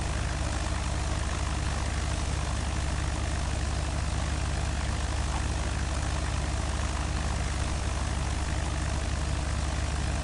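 A light aircraft engine drones as the plane taxis in a flight simulator game. The low, continuous rumble stays loud and unchanging throughout, with no talk.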